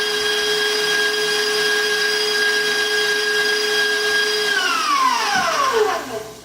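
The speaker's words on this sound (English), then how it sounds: "They said to continue whisking all the sugar until it's thick" An electric whisk whirs loudly and steadily, beating egg whites with sugar for meringue, with a constant high motor whine that winds down and stops at the end.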